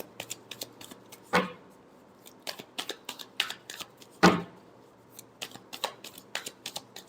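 Tarot cards being shuffled, a crisp irregular run of short riffling flicks with two louder bursts of cascading cards, close and with no talking.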